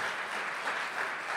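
Audience applause for the organisers of an entrepreneur keynote event, a steady wash of many hands clapping at moderate distance, even and sustained throughout with no voices.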